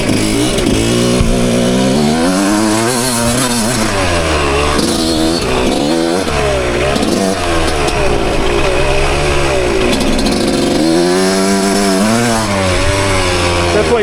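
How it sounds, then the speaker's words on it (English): A 1996 Suzuki RM125 two-stroke motocross bike ridden on wooded trails, its engine loud and close, rising and falling in pitch as the rider works the clutch and throttle, with no break across the run. "Definitely takes some clutch mastery to wheel a motocross bike in the woods pretty good."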